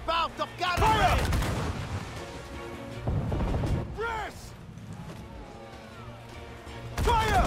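Ship cannons firing in the video game Assassin's Creed IV: Black Flag, with several loud booming blasts spread across the stretch, each trailing off into rumble, mixed with shouted battle commands from crew voices.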